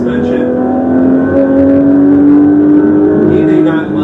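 Porsche 911 GT3 flat-six engine holds a loud, steady rev, its tone rising slightly and sustaining before easing off, heard from inside the car with a voice faintly beneath it.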